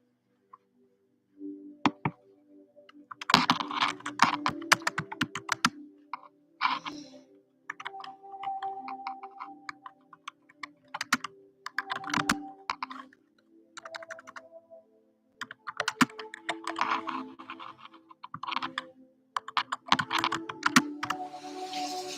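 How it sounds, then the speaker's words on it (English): Fingers type on a computer keyboard in a quiet room, with irregular bursts of rapid clicking keystrokes broken by short pauses, running steadily for about twenty seconds with no voices. "Here, let me type that."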